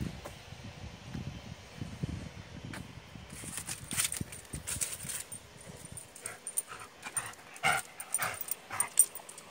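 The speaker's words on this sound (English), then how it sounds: "we got our annoying dog that wants to play fetch right now." A dog eager to play fetch makes restless sounds nearby, soft panting and low movement at first, then scattered high whimpers and yips in short irregular bursts.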